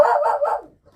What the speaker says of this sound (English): I'm gonna take care of my dog real quick. He's freaking out at something.